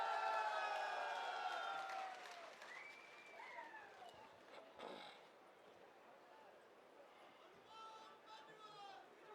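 Faint, distant applause from a crowd at a panchayat rally in Bikaner welcoming local leaders, with a voice talking over it and the clapping tapering off.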